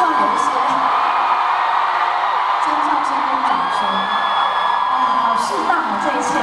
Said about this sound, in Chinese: 还是会希望有一些尖叫声跟掌声